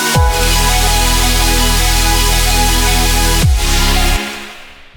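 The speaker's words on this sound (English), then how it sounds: "And that super saw sounds like this." A huge supersaw EDM synth lead built in Xfer Serum plays loud and alone, a dense buzzing chord sustained for several seconds, then retriggered as a second chord that rings out and fades.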